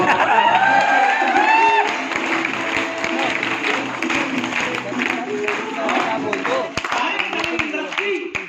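An audience at a direct selling business seminar claps and cheers, a dense burst of applause that swells early and carries on steadily with scattered whoops, while a voice is heard over it.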